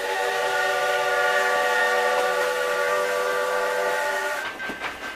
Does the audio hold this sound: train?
yes